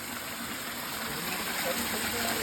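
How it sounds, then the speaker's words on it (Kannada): Water gushes steadily out of a cave beside Bandaje falls on a trekking trail, a continuous broadband rush filling the whole moment at close range with no pauses. "ಓ ಏನೋ ಇಲ್ಲಿಂದ ಬರ್ತದೆ ನೀರು."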